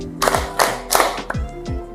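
A few short bursts of hand clapping in a classroom, roughly four separate claps or claps in quick groups, spaced unevenly, with a voiced tone and low hum lingering between them.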